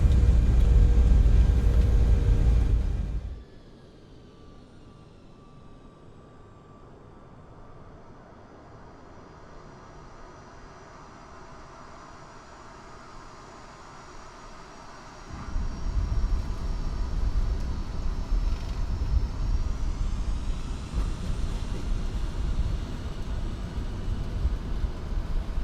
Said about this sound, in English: thrust reversers away